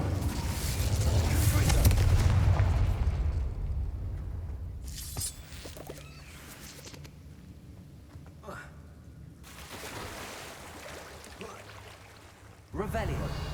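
The Incendio fire spell in Hogwarts Legacy erupts in a loud, rumbling roar of flame for several seconds, then eases into quieter game sounds and crackles before another burst at the end.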